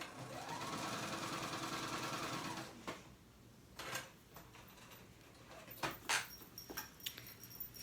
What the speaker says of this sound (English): One straight line of a basting stitch, a long stitch on your sewing machine.